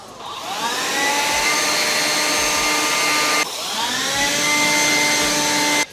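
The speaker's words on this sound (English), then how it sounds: "Take your DeWalt cordless blower. Blow the shit out of it." A DeWalt cordless blower spins up and blasts water off a wet car in two loud, close bursts, each rising to a whining rush of air before cutting off abruptly.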